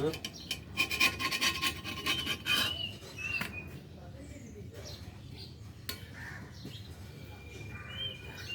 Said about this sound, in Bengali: এটা ঘষে বেজে যখন ধুয়ে পরিষ্কার করছি